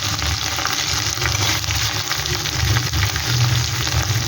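Pieces of ridge gourd sizzle and crackle in hot oil in a pan, with a steady, fairly loud frying hiss and some bubbling from start to finish and no talking.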